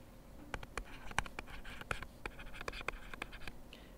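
A pen writes down a numeric answer to a physics quiz problem, producing quick, crisp scratching strokes and small taps in an irregular rhythm, close and fairly quiet, with no talking.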